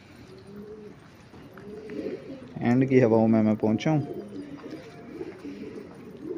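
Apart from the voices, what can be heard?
pigeons cooing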